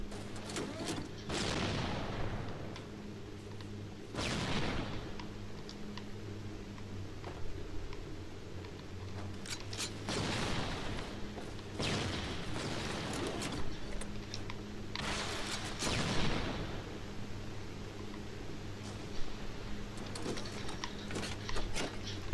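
Rocket blasts and gunfire in a Halo: Combat Evolved 2v2 doubles slayer multiplayer match, several heavy booms spaced across a constant game-audio bed, with sharp shots in between and no talk.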